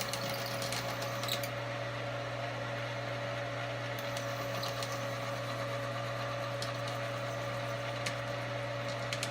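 A Frankford Arsenal case trimmer shaves the mouth of a .308 Winchester brass case in a steady, continuous mechanical whir with a constant motor hum. The sound is fairly quiet and even, with faint clicks and no talking.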